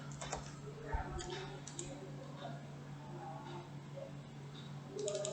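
Quiet clicks and taps of a computer keyboard while typing a search in MATLAB, scattered irregular keystrokes under a faint steady hum.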